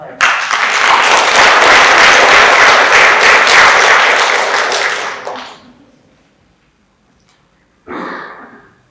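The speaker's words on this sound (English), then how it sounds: "Round of applause for that one, folks" A spelling bee audience in a school setting breaks into loud, sustained applause for about five seconds, fading out into quiet before a brief second burst of clapping rises near the end.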